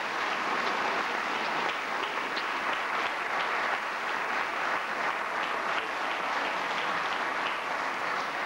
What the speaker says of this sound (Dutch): En een geweldig applaus hier in Paal voor Marie-José.